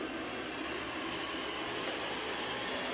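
An ONSON robot vacuum cleaning in a zigzag pattern gives a steady, even whir of motor and suction noise, constant and fairly loud throughout with no talking.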